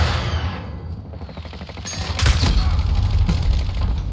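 Sustained gunfire in Call of Duty Modern Warfare on the Crash map in hardcore Headquarters mode, a dense rattle of automatic shots that swells louder partway through and continues steadily to the end.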